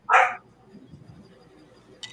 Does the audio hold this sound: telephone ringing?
no